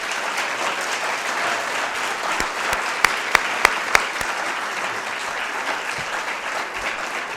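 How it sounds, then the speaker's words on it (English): Sustained applause from the audience at the South Bend Democratic mayoral primary debate, a dense, steady wash of clapping for the candidates, with a few sharp louder claps standing out near the middle and no speech. "A round of applause for the candidates,"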